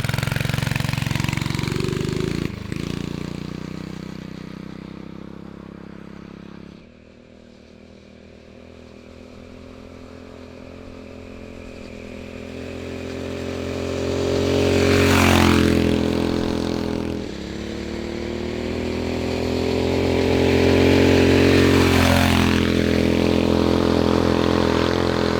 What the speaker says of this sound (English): Thing cranks up so good, Yeah, it's that new carburetor. runs so good.